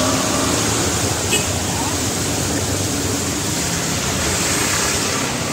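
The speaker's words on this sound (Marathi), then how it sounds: "आज तुम्ही पाऊस बघू शकता" Steady, dense hiss of heavy rain falling around an auto-rickshaw, a constant broadband wash with no breaks, fairly loud and close.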